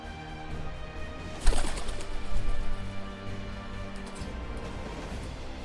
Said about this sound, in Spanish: Palomas me acompañaron.